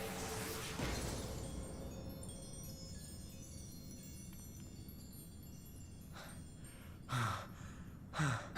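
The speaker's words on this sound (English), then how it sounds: "Just the panting in the background." Breathy panting and sighs from a character after a boss fight in Final Fantasy XIV's post-Stormblood story, faint at first and then a couple of louder exhalations near the end over quiet game ambience.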